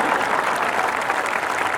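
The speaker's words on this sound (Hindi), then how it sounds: "एक बार जोरदार तालियां बजाएं।" A packed audience at a Hindi comic poetry event (hasya kavi sammelan) in Rajnandgaon breaks into steady, dense applause that holds at an even, loud level throughout with no pauses.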